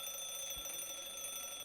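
An alarm clock rings continuously with a steady, high-pitched electronic tone that holds unbroken and fairly loud throughout, with no voices.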